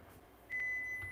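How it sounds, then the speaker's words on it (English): A single steady electronic beep from a kitchen appliance while cookies are being baked, starting partway through and holding as a thin tone over quiet room noise. "Beep, I hear you."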